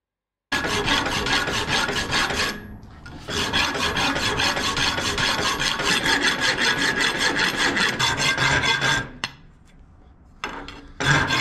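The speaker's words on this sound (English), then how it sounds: "let's get it on the grinder and see if we can clean this up a little bit" Grinder working a W1 steel knife blank: a loud, harsh abrasive rasp that runs continuously, with a short lull early on and another near the end before resuming, and no talking.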